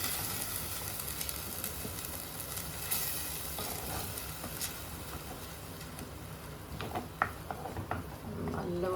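Masala paste for a Kerala-style sardine curry sautéing in oil in a pan, a steady, soft sizzle with faint stirring scrapes and small clinks near the end, no voices.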